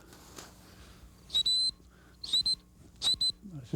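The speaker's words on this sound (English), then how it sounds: "That's a turn whistle." A dog trainer blows three short, shrill turn-whistle blasts to signal a Labrador Retriever in the field. Each blast is sharp and close, with brief pauses between them and faint outdoor background noise.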